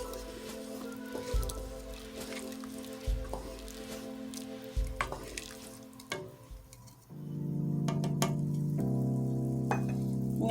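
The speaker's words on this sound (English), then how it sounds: "we're going to mix until well combined" Cabbage soup ingredients with salt and red pepper flakes are stirred in a pot, soft scraping and sloshing strokes under a low simmering hum, fairly quiet and close.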